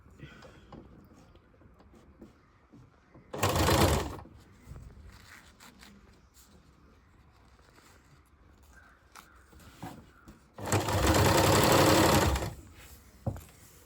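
A sewing machine stitches a churidar pant in two loud whirring runs, a short one and a longer one, separated by a long quiet stretch with faint handling sounds.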